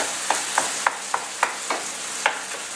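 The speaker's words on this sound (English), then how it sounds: "I'm just going to break up that ground beef a little bit more" Ground beef browns in a pan with a constant crackling sizzle as a utensil breaks it up, making about eight evenly spaced scraping knocks against the pan, close and fairly loud.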